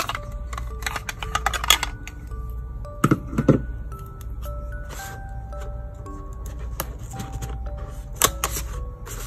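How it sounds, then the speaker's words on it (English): Sharp clicks and snips from cutting the tape on the back of an Apple AirPods Pro box, in quick clusters near the start and scattered later, close and fairly crisp over a quiet background. "I think I need to cut the tape on the back"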